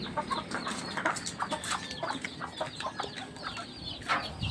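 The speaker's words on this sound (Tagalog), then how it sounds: "Ito yung lagi ko pinapakita sa inyo na sisiw ko. 4 na sisiw." Several chicks cheep in a backyard pen, high rapid peeps overlapping continuously at close range over a busy outdoor background, with no talking.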